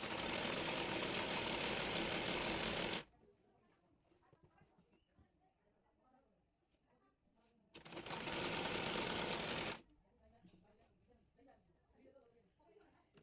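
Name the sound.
sewing machine stitching folded hem of a garment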